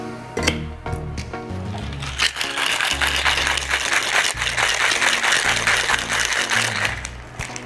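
Ice rattles hard inside a shaker, a rhythmic, steady rattling that continues for several seconds at close range, with no speech over it.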